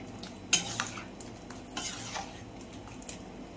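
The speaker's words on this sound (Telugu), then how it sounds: "మొత్తం కలబెట్టి" A spoon stirs okra and fish curry in a pot, making faint, scattered scraping and clinking against the metal with a soft background sizzle, and no voices.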